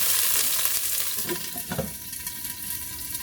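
A fatty cut of meat sizzling in hot oil in a pan: a loud, dense, close hiss runs throughout, with a brief stir or shift of the meat partway through.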